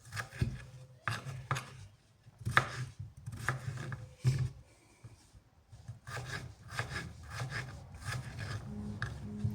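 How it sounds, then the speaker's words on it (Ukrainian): A knife slicing a peeled cucumber on a cutting board for a salad, producing a run of close, irregular chopping thuds and crisp cuts with short pauses between them, with no talking. "огірочок, я почистила і ріжемо"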